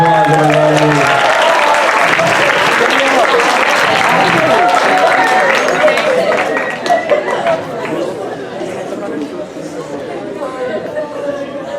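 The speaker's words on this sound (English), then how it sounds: "Give Beth a round of applause, everybody" Audience at a comedy hypnosis show applauds as a volunteer named Beth comes up to the stage, clapping mixed with crowd chatter and a voice talking over it, the applause loud for about six seconds and then fading to murmuring.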